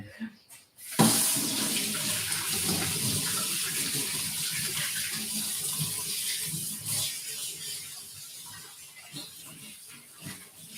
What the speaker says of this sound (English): So I'll wash my hands and do that.